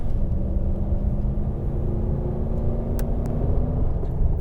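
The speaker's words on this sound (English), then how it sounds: "Come to a quick braking, constant pressure down to 10." A Toyota Tundra pickup slows hard from about 60 to 10 mph under steady brake pressure, heard from inside as a loud, continuous road and engine rumble with a low tone that gradually falls.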